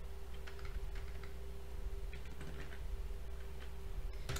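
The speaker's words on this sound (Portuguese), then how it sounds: "Digitei a palavra carimbo e ele já vai, ó, te trazer várias respostas" A word typed on a computer keyboard, with a quick run of light, close key clicks in an irregular rhythm over a steady low electrical hum.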